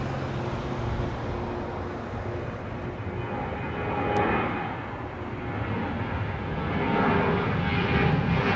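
A Ryanair airliner arriving at Dublin Airport gives a steady, broad jet roar that rises and falls gently as it passes, heard from a distance with no talk.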